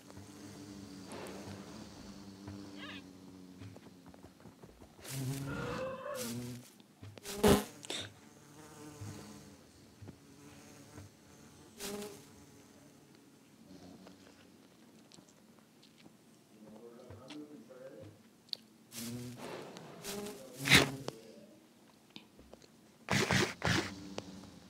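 Bee buzzing in Minecraft, recurring in short bursts across the scene, with a few louder spikes and other game sounds between them.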